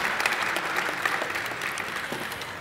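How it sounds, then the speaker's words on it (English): Brief applause from an audience at a welcome reception in an auditorium, a steady wash of clapping at moderate volume with scattered claps standing out. "Let's give them a round of applause."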